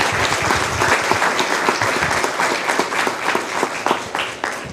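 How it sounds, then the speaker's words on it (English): An audience at a school board meeting claps steadily, a dense wash of applause from many hands sustained throughout, fairly close and loud. "So let's give them a round of applause"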